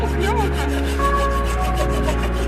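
A hand saw cuts through wood at a riverside campsite, with rapid, steady back-and-forth strokes, loud and close, and a few faint tonal sounds in the background.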